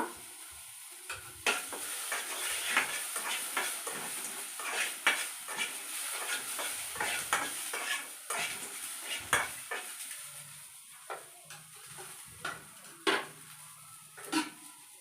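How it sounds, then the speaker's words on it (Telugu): Tomatoes sizzling in a pan as a spoon scrapes and clinks against the metal in repeated stirring strokes, close and moderately loud over a steady frying hiss. "ఇదే వేస్తున్నాను టమాటా టమాటా కూడా వేయించుకుంటున్నా"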